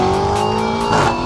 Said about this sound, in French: Ouais, je fais un launch control.